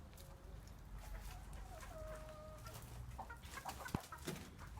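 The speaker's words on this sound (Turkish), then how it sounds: "Oradaki komşumuzun e, tavukları bunlar." A neighbour's chickens in a village cluck faintly at a distance over a steady outdoor background hum, with a few sharper calls near the end.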